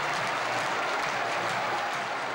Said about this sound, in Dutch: En dan gaat het publiek in Doetinchem erachter staan.